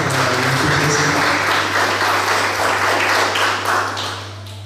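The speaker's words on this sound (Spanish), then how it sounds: "Un fuerte aplauso." An audience applauds after a research presentation in a hall, a dense wash of clapping that stays steady, then thins toward the end over a constant low hum.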